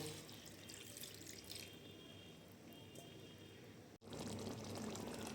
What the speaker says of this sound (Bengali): এবারে যে এখানে যে ওলকপি সেদ্ধ করে রাখা যে জল আছে, সেই জলটাকে আমি পুরোটাকে দিয়ে দেব।